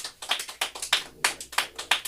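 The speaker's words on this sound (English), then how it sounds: "Round of applause for this guy." A comedy-show audience applauds for a man who just answered a question, with about a dozen distinct sharp claps in a loose, uneven rhythm, fairly close and alone with no voices.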